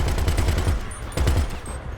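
A vehicle-mounted machine gun turret fires in the video game GTA V, a rapid stream of rattling shots in quick bursts, loud and close, with a short gap before the firing resumes.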